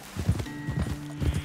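Horse hooves clip-clopping on a trail in Red Dead Redemption 2, a few quick uneven hoof strikes at a walking pace over a steady low game ambience, close and moderately loud, no talk.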